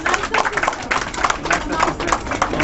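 Steady, dense applause from an audience at a graduation ceremony for Somali students in London, continuous and fairly loud throughout without pause.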